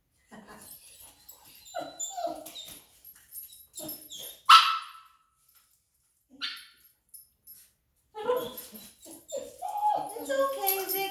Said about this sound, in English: Now he's barking at you, Ziggy.